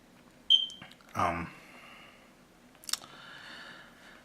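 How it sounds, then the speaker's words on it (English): A single sharp, high electronic beep rings out once from a Pugo Top I7 Pro tablet, followed by a few quieter clicks and a soft rustle in an otherwise quiet room. "I know you heard the beeping throughout this inspection here."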